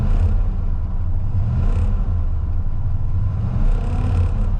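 A Ford F150 truck engine runs close by with a deep, steady rumble that swells slightly as it is revved, alone with no talk.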